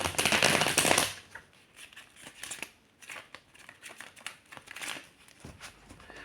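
Tarot cards are shuffled by hand, opening with a dense burst of riffling, then continuing as a string of crisp, close slaps and flutters at an irregular rhythm.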